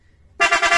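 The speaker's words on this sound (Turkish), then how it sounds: "çat çat kornayla bir şeref turu atarsın aracınla abi" A çat çat style car horn, a Mitsuba unit fitted to a Peugeot 407, blasts loud and sudden after a moment of near silence, pulsing in quick rhythmic toots to the end.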